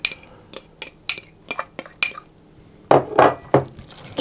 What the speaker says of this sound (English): I just want to mix my apricot jam into that.